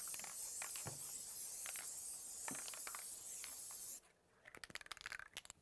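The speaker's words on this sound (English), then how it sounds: "Let's go ahead and spray on over on the stabilizer." Spray adhesive hisses from a can onto embroidery stabilizer, a faint steady spray for about four seconds, then stops, leaving quiet tapping and handling noises.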